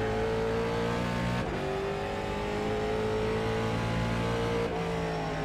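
Late model race car in iRacing at New Smyrna, its engine holding a steady, loud drone with a brief shift-like dip early on, close and continuous with no talk.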